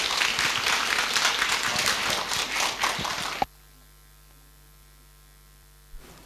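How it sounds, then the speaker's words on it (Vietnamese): A church congregation claps at a parish wedding anniversary celebration, dense loud applause lasting a few seconds before cutting off abruptly to a quiet electrical hum, with a brief knock near the end. "Xin cộng đoàn chúng ta vỗ một tràng pháo tay thật to để chúc mừng."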